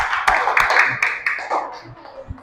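A class of pupils claps together for everyone, several distinct sharp hand claps over a few seconds, nearby and moderately loud, with a faint voice underneath.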